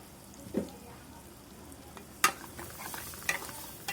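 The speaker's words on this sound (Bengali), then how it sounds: "আমি মশলাটা ভালো করে নাড়াই নিব।" Spice paste of garlic, onion and green chili is stirred in a pan while cooking shrimp with taro stolons, giving soft quiet sizzling with a few sharp clinks of the spoon against the pan.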